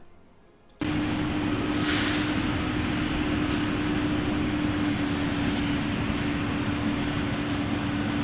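SpaceX booster rocket engines, ten of thirty-three firing, roar as a steady, dense, loud rumble that starts abruptly after a quiet moment and holds without break.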